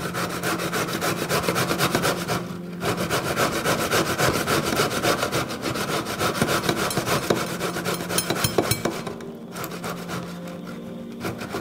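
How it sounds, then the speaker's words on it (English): Beetroot is rubbed hard against a kitchen grater in quick, rasping strokes, a steady scraping rhythm that continues for several seconds, loud and close with no talking. "So the first vegetable we'll grate is the beetroot."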